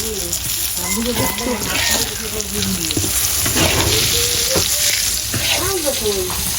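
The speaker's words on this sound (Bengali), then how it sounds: "দেখুন ভাজা হচ্ছে" Eggplant slices frying in hot oil give a steady, close sizzle with stirring and crackling throughout, while voices talk over the cooking.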